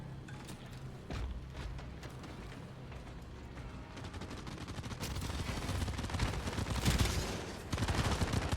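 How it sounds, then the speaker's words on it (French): Gunfire in the video game Steel Hunters, bursts of shots and mechanical clatter building over a dense, noisy battle background, growing louder toward the end. "Ah, j'entends ça tire"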